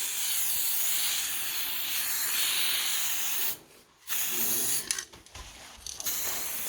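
An aerosol spray paint can sprays a steady, close, loud hiss onto griffin models, cutting off briefly partway and then resuming in short, broken bursts.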